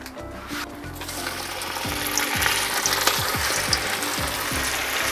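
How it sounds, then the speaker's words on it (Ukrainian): Carp pieces frying in hot sunflower oil in a cauldron, a steady close sizzle with a rapid run of clicking, ratchet-like crackles through the middle. "Казан нагрівся, додаю соняшникову олію. Рибу буду обсмажувати порційно, закладаю першу партію."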